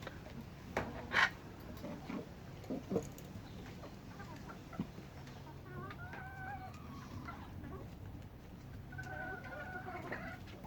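Guinea fowl calling around an urban backyard, a few faint scattered clucks and short chattering calls at a distance over low background noise.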